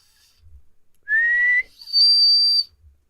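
Two clear, loud whistles made by sucking air in through pocketed lips, the first shorter and lower, the second longer and higher-pitched, heard alone in quiet.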